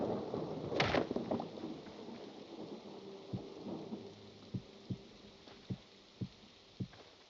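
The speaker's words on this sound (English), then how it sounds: "Listen to that thunder." Rain falls steadily while thunder rumbles early on, then a series of sharp, evenly spaced cracks and knocks punctuate the storm, moderately distant and fairly quiet overall.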